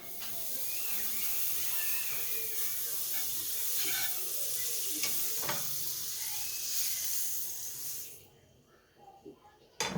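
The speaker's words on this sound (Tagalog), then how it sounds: "Lagay tayo ng konting butter." A small frying pan with a little butter for fluffy chocolate pancakes gives off a steady, loud sizzle and hiss for about eight seconds, then drops away to faint crackles.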